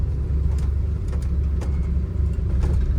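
A 1956 Chevrolet Bel Air hardtop with power steering and power brakes runs steadily, its engine giving a continuous low rumble that stays loud and even throughout, with no talking.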